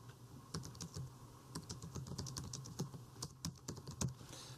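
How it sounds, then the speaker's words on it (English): Someone types on a computer keyboard at a dispatch workstation, producing a quick, irregular run of close, soft key clicks with no speech. "I'm going to go ahead and just type something in"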